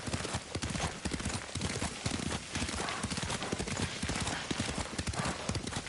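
Horse hooves gallop in a steady, rapid clatter in the video game Ghost of Tsushima, loud and continuous with dense overlapping beats throughout.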